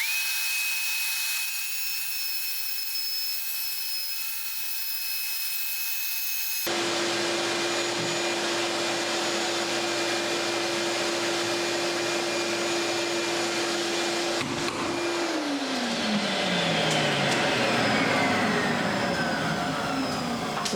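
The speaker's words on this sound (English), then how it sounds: "this puts out so much dust when you hit this above your head that I'm using the hot vac" A hot vac shop vacuum drones loudly while a tool cuts holes overhead in a ceiling for LED wafer lights, a steady roar with a whining tone that shifts pitch and then falls away near the end.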